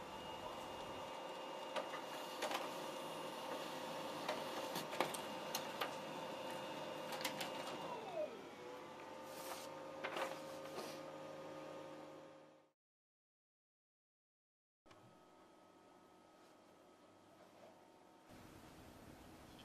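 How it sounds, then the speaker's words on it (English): A pigeon-racing clock printer runs with steady mechanical whirring and clicking, winds down, goes silent briefly, then a softer feed-and-eject hum resumes. "select the OK button to start printing, and the printing page is ejected from the printer"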